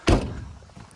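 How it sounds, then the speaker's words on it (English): A door closes with a single close, solid thunk followed by a brief fading rattle, outdoors during a storm, with no talk. "Close the door."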